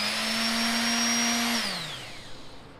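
A Harbor Freight palm sander smoothing wooden round-overs and edges with 150-grit paper whirs loudly and steadily up close, then winds down as it is switched off, the pitch sliding lower into quiet.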